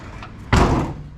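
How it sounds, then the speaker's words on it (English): A minitruck door swings shut with a solid thud followed by a brief scraping rattle as it catches on the plastic bumper molding, close by, with no talking. "It catches on the plastic bumper molding."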